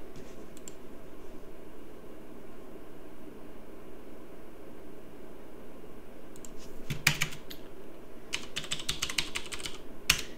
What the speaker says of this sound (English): Type your username.